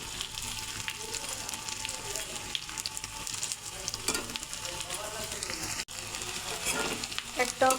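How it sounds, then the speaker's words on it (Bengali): Lentil fritters, dal bora, are frying in oil with a continuous crackling sizzle, close but quiet, broken by a brief dip and a few soft clatters from turning. "এইভাবেই আমি ভেজে নেব বড়াগুলো"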